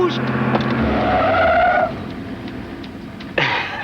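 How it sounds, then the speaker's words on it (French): A car brakes hard on a road, its tires skidding and squealing loudly for a couple of seconds, with engine noise and a voice speaking over it before a second brief screech. "Elle freine bien."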